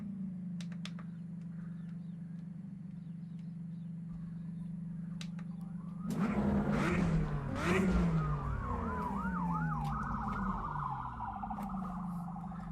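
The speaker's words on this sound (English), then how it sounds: "Got the ambulance passing" An ambulance siren passes by a car near Winton Park raceway, starting over a steady engine hum and rising suddenly into a loud wailing and yelping sweep that stays prominent to the end.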